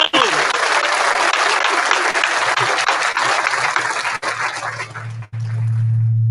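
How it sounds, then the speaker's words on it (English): Loud, dense crowd applause for a Cleveland Browns football player at a casino event, steady clapping for about five seconds before dropping away, leaving a low hum. "Round of applause for Mr. Phil Taylor, Cleveland Browns."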